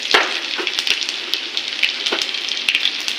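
Mustard seeds, panch phoron and chopped ginger sizzle and crackle in hot oil, a steady close frying hiss scattered with sharp pops and spits.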